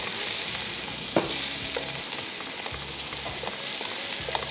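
Onion and garlic sautéing lightly in a pan, a steady close sizzle with a few sharp stirring scrapes and ticks, no voices.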